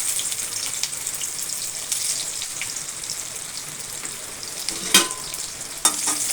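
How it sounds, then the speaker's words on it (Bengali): Chopped onion frying in hot oil for a water lily stalk dish, a steady close sizzle with crackles and a couple of sharp scraping stirs toward the end, no voices. "পেঁয়াজটা আমার ভাজা হয়ে গেছে,"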